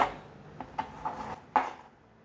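A knife slices frozen vegan shiitake mushrooms into strips, making several short, crisp chopping knocks at an irregular pace, fairly close and quiet, with no talking.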